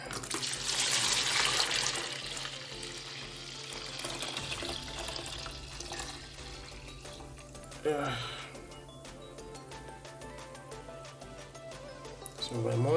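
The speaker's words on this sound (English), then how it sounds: "So now I'll pour it into the container where I will make the yogurt in." Milk pours steadily into a container with a splashy, bubbling rush that thins to a trickle, with a clink and handling noises near the end.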